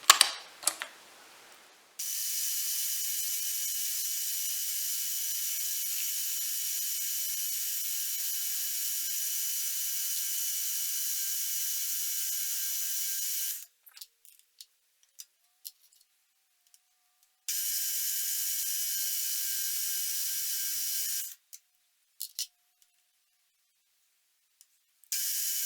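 An end mill held in a drill chuck cuts a small flat on a metal crosshead part, giving two long, steady high-pitched grinding stretches separated by near silence and a few short scrapes.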